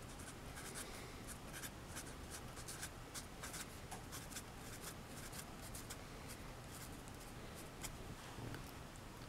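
A marker writes on strips of blue painter's tape stuck to plastic plant markers for seed starting, a faint close scratchy scribble in quick strokes throughout, no talk.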